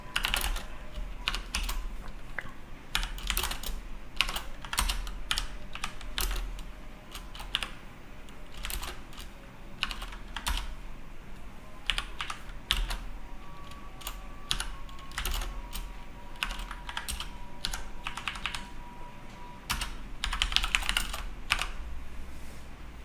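Code being typed on a computer keyboard: a steady run of close, crisp keystrokes in uneven bursts that continue throughout, with no talking.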